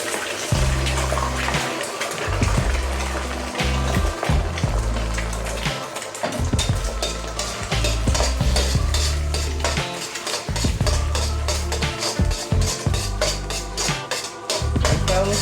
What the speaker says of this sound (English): this pan is smoking hot. So I'm going to add my eggs in first and cook them first